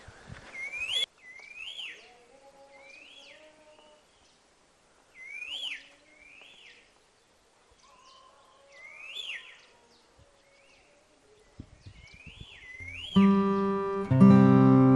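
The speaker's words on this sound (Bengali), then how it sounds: "শুনুন চারিদিকে কি সুন্দর পাখি ডাকছে," Birds sing in short whistled phrases, repeated at intervals with quiet gaps between, fairly clear and nearby, in the hills at Rishop, North Bengal; music starts abruptly near the end.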